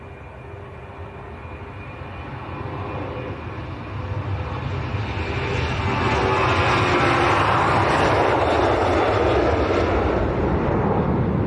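A Jet2 airliner departs Leeds Bradford Airport, its engine roar swelling steadily from a distant rumble to a loud, sustained broadband thunder with a high whine, with no talking over it.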